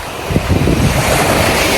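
Surf rolling onto a sandy beach on a hot day, loud and close with steady wind rumble buffeting the microphone throughout, no voices.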